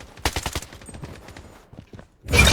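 Scar rifle fire in Blood Strike, a short rapid burst of close, punchy shots followed by scattered softer hits and a loud noisy swell at the end.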